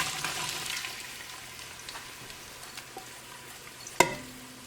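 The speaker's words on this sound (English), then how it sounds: "we've got the olive oil, and it's beginning to simmer a little, so we're going to add our onions" Onions dropped into hot olive oil in a pan, a soft sizzle that fades gradually, followed by a sharp clink of a utensil near the end.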